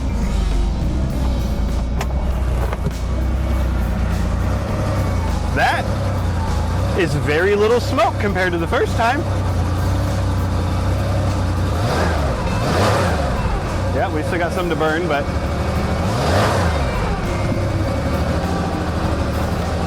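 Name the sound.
1977 Porsche 911S Targa air-cooled engine idling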